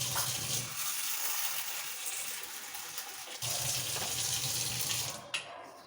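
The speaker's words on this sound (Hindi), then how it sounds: "तो दाल में मैंने पानी डाल के रख दिया, ये फूल जाएगी थोड़ा" Water running from a tap onto chana dal in a bowl to soak it, a steady splashing gush that changes pitch partway through and cuts off near the end, close, with no talk.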